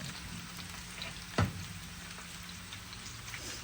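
Eggplant frying in a pan, a soft steady sizzle with one brief louder clunk of stirring, close and quiet with no voices.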